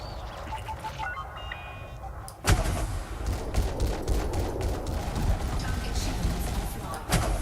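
Ship weapons firing during a space dogfight in Elite Dangerous, a sudden loud burst followed by sustained rumbling fire and a second sharp hit, with talk over it.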